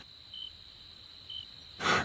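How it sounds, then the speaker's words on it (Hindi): Crickets chirping at night, a steady thin high trill held throughout with two brief louder chirps, faint and distant, followed by a short burst of noise at the end. "सिर्फ कहीं दूर से कुत्तों के भौंकने और झींगुरों की आवाजें सुनाई दे रही थीं"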